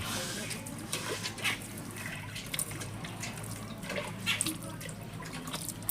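Tap water runs steadily while dishes are washed at a sink, with splashing and dripping throughout and faint voices in the background.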